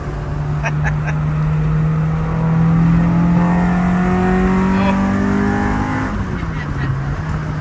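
A 1995 Honda Civic sedan with a JDM R head on a built GSR block revs hard, its engine pitch climbing steadily into VTEC and then dropping off, loud and close, while people talk over it.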